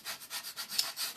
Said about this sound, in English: using this paste scraper, and that gets off all that dry paste